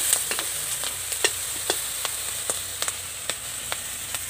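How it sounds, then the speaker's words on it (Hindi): Tomatoes fry with garlic and mustard in a pan, making a soft constant sizzle marked by sharp, irregular clicks and scrapes from stirring. "तो उसके बाद क्या डालने मम्मी टमेटो उसको फ्राई करने होगा"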